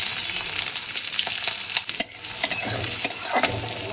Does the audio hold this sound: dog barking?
no